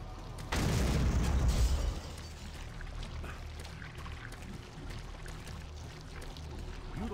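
A single heavy weapon blast from the video game DOOM 3 bursts in loud and close, rumbling for over a second before fading into a low, steady game ambience with faint scattered clicks.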